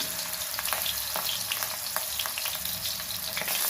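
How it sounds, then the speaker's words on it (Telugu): Eggplant pieces fry in oil, producing a dense, steady sizzle dotted with small crackles and pops throughout, fairly quiet and uninterrupted. "ఈ వంకాయ ముక్కలు కొంచెం ఆయిల్లో ఫ్రై చేసి తీసేస్తాను"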